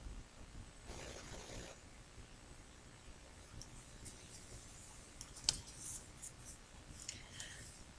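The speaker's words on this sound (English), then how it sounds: "I'm going to take my scissors and trim this top one in half" Quiet snips and clicks of scissors trimming card-making paper, a few short crisp sounds scattered over a faint background hush, close to the microphone.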